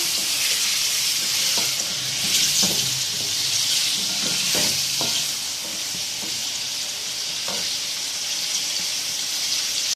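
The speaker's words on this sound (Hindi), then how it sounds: "चिकन को ऑयल में हम 1-2 मिनट फ्राई कर लेंगे।" Pieces of chicken frying in hot oil in a pan, a steady broadband sizzle throughout with occasional light clinks and stirring knocks, close and fairly loud with no talk.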